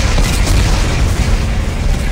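Explosives detonating in the video game Dead Space 3, a loud sustained rumbling blast with dense low boom and roaring noise filling the whole moment.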